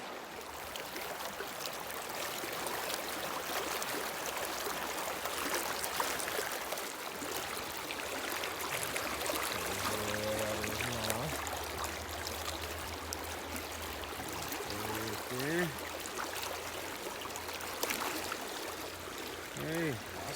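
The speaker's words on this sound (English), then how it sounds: "Nice little riffle there." Stream water rushes over a shallow riffle during fly fishing for brown trout, a steady broadband wash that stays constant and fairly close, with brief tonal sounds partway through.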